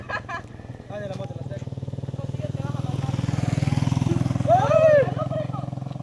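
A motorcycle engine idles and then revs with a steady, throbbing putter up close, while people talk over it.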